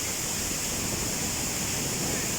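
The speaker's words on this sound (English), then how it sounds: "When else are you going to be underneath a waterfall?" Waterfall in the Brecon Beacons, heard from behind and beneath the falling water: a loud, constant, dense roar of rushing, splashing water that fills the whole sound with no break.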